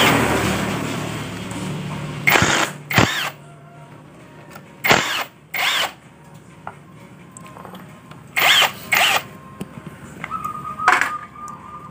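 Impact wrench working on a Honda Beat scooter engine during teardown: several short, loud bursts, mostly in pairs, separated by quieter workshop background.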